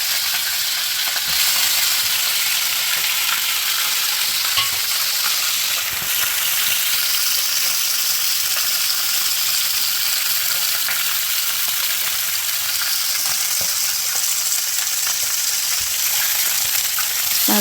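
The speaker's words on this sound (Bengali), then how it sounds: "একটু অপেক্ষা করবো মাছগুলি ভাজার জন্য" Pieces of rohu fish belly frying in hot oil give a steady, dense sizzle that holds evenly throughout, close and loud with no talking.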